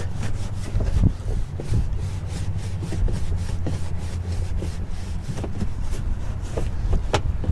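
A brush scrubs the back of a wet car wheel on a fifth-generation Chevrolet Camaro, rasping in repeated back-and-forth strokes at close range with no talking.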